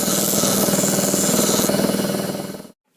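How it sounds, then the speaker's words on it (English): A grinder whines steadily as it takes the burrs off drilled holes in the steel tang of a knife made from a saw blade, loud and close, then cuts off abruptly near the end. "Now I'm just going to take the burrs off with the grinder real quick."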